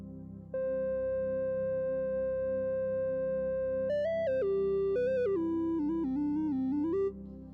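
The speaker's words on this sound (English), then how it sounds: "So now I have this like a sine wave on top." A pure synthesizer sine tone holds steady, then steps through a series of shifting pitches before cutting off, clean and close.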